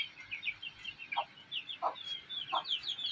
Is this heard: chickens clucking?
yes